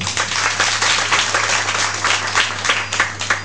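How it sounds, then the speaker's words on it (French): Audience applause at a Christmas gathering honoring the NGO Amis des Loups: dense, steady clapping from many hands fills the room, loud and sustained without a break. "je voudrais qu'on applaudisse l'ONG Amis des Loups"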